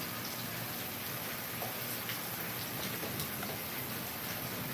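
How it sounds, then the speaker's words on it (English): Steady rain falls outdoors, a soft continuous hiss speckled with faint scattered drop ticks, fairly quiet and even throughout with no talking. "Loving that it's raining."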